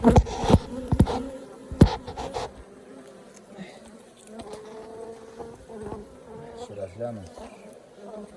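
Honeybees buzz continuously around a hive as a frame is handled, with a few sharp knocks and clatters of equipment early on and faint voices nearby.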